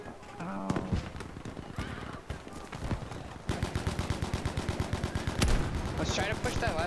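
Rapid automatic gunfire in a Battlefield V battle, starting with scattered shots and building into a steady, fast machine-gun rhythm, close and loud, with distant rattling shots and voices underneath.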